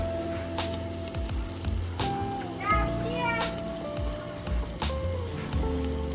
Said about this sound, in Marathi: मंडळी आपण कांद्याचं वाटण टाकतोय, जो आपण कांदा भाजलेला होता ना तो वाटण टाकतोय.